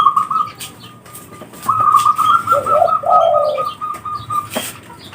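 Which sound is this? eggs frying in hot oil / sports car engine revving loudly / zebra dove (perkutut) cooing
zebra dove (perkutut) cooing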